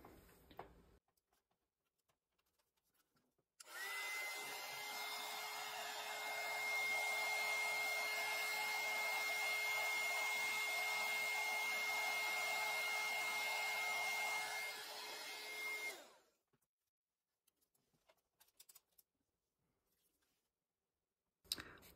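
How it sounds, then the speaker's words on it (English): A heat gun blows steadily for about twelve seconds while melting embossing powder, a loud close whooshing hum with a faint whine that starts abruptly and stops, followed by quiet small clicks. "maybe I'll have to come in slower with the heat gun"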